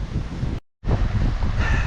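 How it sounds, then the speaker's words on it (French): Strong wind by a lake in Amsterdam, loud steady roaring buffets hitting the microphone, cut by a brief gap of near silence before the blowing resumes just as hard. "Le vent s'est levé, un truc de fou."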